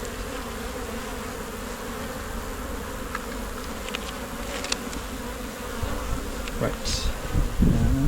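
Honey bees drone steadily inside a brood box packed almost full of bees, a dense close continuous buzz, with a brief spoken word and some handling noise near the end.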